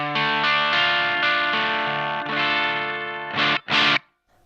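Electric guitar on its neck pickup, driven through a Mad Professor Big Tweedy Drive overdrive pedal, rings out bright, crunchy sustained chords, then two short stabs before cutting to silence.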